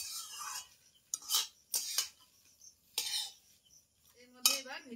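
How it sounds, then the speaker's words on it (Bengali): Cooked rice mixed with cutlery in a pan, producing repeated scraping and clinking strokes in short bursts with quiet gaps between them. "ভাতটাকে ভালোভাবে এটাকে মিশিয়ে দিচ্ছি"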